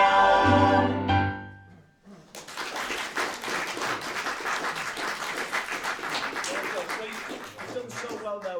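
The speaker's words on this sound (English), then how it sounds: "You've done so well there with your applause" Audience applause at a school Christmas concert, a dense sustained wash of many hands clapping that swells in after a sung carol's final held notes fade out.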